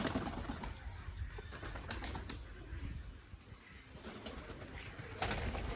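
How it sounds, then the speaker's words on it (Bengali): Pigeons in a loft at feeding time give soft, low cooing over a steady rustle, with occasional bursts that may be wing flaps, continuous and fairly near throughout. "খাবার দেবো পায়রাগুলোকে।"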